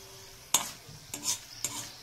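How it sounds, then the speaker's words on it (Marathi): Three sharp scrapes of a utensil against a thin iron pan over a low, steady sizzle of frying in oil, fairly quiet and close. "तेलामध्ये थोडंसं फ्राय करून घ्यायचं आहे।"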